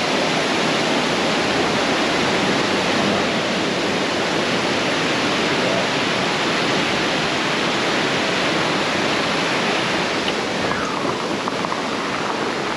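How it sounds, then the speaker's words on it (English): A waterfall seen from a trestle on a bikepacking trail roars as a loud, steady, broadband rush of water that stays constant throughout. "Waterfall from that."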